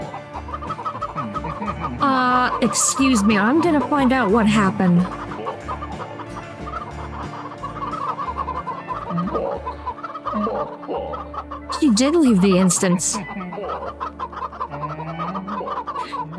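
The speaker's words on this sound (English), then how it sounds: "I think it's all the chickens." Video game chickens clucking and squawking in a busy overlapping chorus, louder bursts around the middle and late sections, with someone speaking briefly over the birds.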